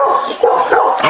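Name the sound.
dog barking while being told to get a man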